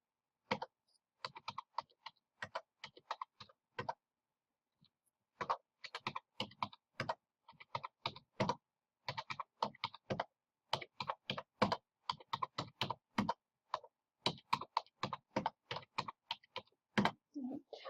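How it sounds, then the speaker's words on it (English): Number keys on a calculator are tapped in quick, irregular clusters of soft clicks with brief pauses between entries, close and fairly quiet. "I'm going to type in my probabilities"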